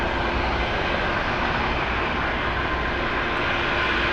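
A Boeing 767 airliner at Los Angeles International Airport produces a steady, loud, broadband engine roar that holds constant throughout, with no voices over it.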